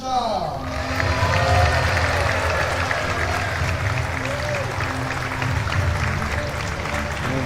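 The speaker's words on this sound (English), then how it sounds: "Give him a big round of applause here at the Ontario Convention Center" A crowd at the Ontario Convention Center applauds during the 2025 US National Championships men's singles finals, with loud, steady clapping and cheering throughout and an announcer's voice carrying over it.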